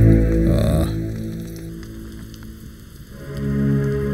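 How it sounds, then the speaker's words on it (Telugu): Rain falling outdoors in a dramatic film scene, a soft steady patter lying beneath sustained tonal music, fading slightly in the middle before the music swells again. "వర్షం వస్తాందిరా"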